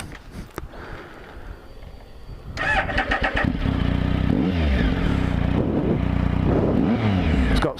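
A 2012 Triumph Speed Triple motorcycle engine cranks briefly, then fires up and settles into a loud, close, steady idle with aftermarket exhaust cans, throbbing evenly with small revving swells.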